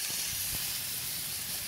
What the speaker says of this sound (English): another perfect steak sizzle of the Linders family.